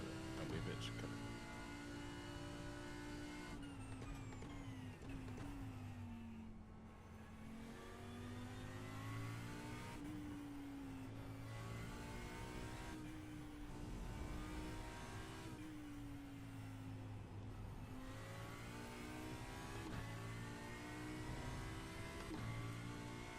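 A GT3 race car engine in the iRacing sim revs loudly and continuously, its pitch climbing and dropping through gear changes with a brief lift near the middle.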